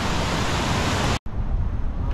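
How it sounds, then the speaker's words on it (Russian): Water rushes and babbles steadily in a mountain stream below a waterfall near Adler, a dense close-up roar that cuts out briefly and then resumes slightly softer. "Водичка журчит."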